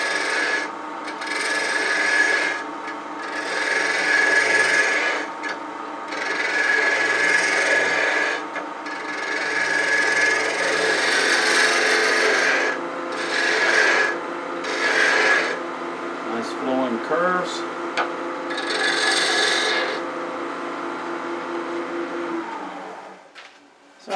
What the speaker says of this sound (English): A good tool for this kind of round over shaping is spindle roughing gouge.